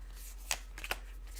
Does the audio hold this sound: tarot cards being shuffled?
yes